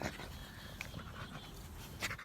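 A bully-breed puppy pants steadily and close by, quick rhythmic breaths running through the whole moment with no voices over it.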